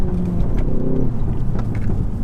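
A front-wheel drive car tuned to 330 horsepower growls with a loud, close engine note that surges briefly and then settles into a rough rumble.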